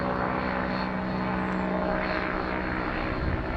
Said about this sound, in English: It's an interesting plane